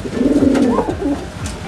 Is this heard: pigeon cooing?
yes